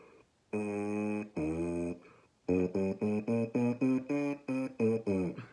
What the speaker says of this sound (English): younger tuba players, when they buzz, they sound like this.